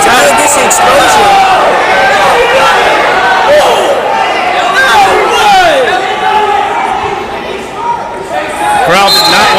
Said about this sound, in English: Crowd did not like that call.